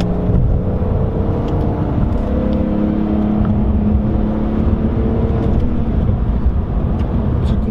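Car engine of a coupe running steadily with a deep, throaty note, close and loud, holding a constant drone throughout with no speech.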